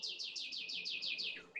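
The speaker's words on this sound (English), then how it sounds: "The bird song was a great little accent to that." Outdoor bird song: a quick run of about eight bright, identical descending chirps in a steady rhythm, followed by two shorter lower notes, clear and moderately close against a quiet background.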